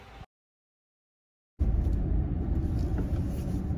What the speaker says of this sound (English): I'm back in my old Jag.